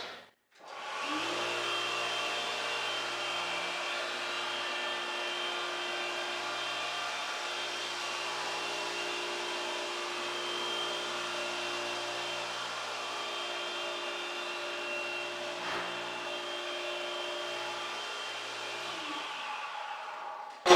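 Floor sanding machine working an oak floor, a loud steady whining drone with a constant motor tone that starts abruptly, runs unbroken for about eighteen seconds, then winds down.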